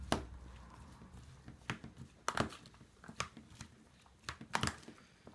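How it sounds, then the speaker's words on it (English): Salsa with bottled lime juice gets a quick stir in a bowl, a series of soft wet slaps and clicks of the utensil at irregular intervals, close and quiet. "We're going to give it all a nice quick stir."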